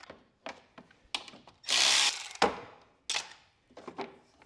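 An 8mm socket turning out a bolt on a John Deere S100 series riding mower, heard as short close ratcheting and metallic tool clicks in bursts with brief pauses between.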